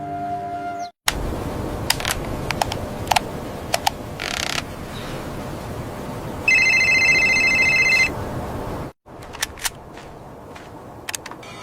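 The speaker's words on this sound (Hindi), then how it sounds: "अरे ये किसका फोन आ गया?" A phone rings with a repeated electronic ringtone, a bright burst lasting a couple of seconds amid a noisy indoor scene with clicks and creaks, then the sound cuts off.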